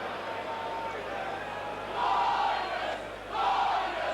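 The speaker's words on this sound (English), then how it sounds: "Crowd getting behind Leeds now" A rugby league crowd at Leeds v Bradford Northern in 1989 roars in the background, swelling twice into louder surges of cheering, while a commentator talks over it.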